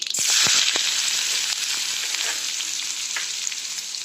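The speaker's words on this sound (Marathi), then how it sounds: "कांदा चांगला परतून घ्यायचा" Onion frying in oil in a pan, a loud, close, continuous sizzle with a few stirring scrapes near the start.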